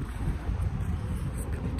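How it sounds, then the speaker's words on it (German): Strong, cold wind blowing outdoors, a steady broadband rumble and buffeting across the microphone that stays loud throughout with no break. "Und richtig windig."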